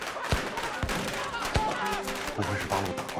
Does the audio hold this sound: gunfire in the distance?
yes